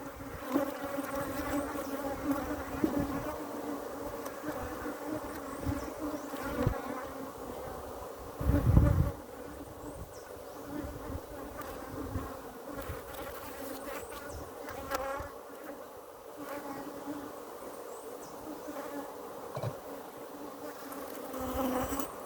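Honey bees droning in a steady, dense hum at an open hive while a fresh foundation sheet goes in, the buzz close and continuous with a brief louder swell as insects pass near.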